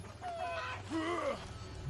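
A rooster in the Assassin's Creed Odyssey video game gives a few short clucking calls with rising and falling tones, moderately loud over a low background hum, with a sharper squawk at the very end.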